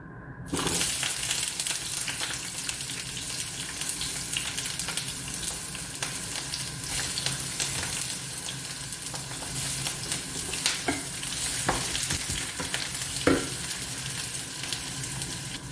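Food fries in a hot pan with a steady close sizzle, broken by occasional scraping stirs of a utensil, continuous and alone without voices.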